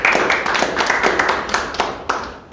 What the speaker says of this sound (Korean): 평택 성폭력 상담소 김정숙 소장님을 큰 박수로 맞이해 주시길 바라겠습니다